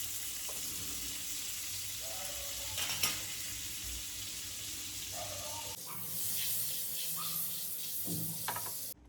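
Paneer sizzles in melted butter in a small hot pan, a steady close frying hiss with brief clinks and a louder surge of crackle near the end, no talking.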